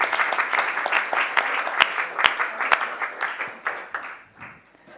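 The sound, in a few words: audience round of applause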